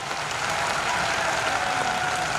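Students in a crowd at a career guidance talk clap loudly for their parents, a steady wash of dense applause lasting the whole moment without a break.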